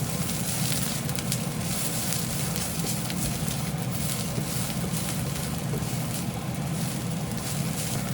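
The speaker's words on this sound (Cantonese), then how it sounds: "跟住呢，就加埋啲梅菜落去炒勻佢啦。" Preserved mustard greens are stir-fried in a wok over medium heat with oil, ginger, shallots and garlic, producing a steady, quiet sizzling and crackle under light scraping, with no talking.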